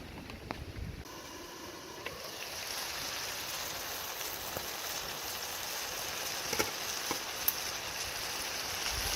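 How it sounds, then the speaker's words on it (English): Gentle rain falls outdoors near an open-air cooking fire, making a soft, continuous hiss with scattered light patters and ticks throughout, faint and steady with no voices. "The gentle rain continues to fall"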